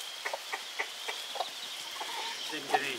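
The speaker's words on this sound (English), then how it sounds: "All the chicks are looking at the other hens now." Hens and chicks clucking softly with a run of short, evenly spaced clucks at close range over a quiet background.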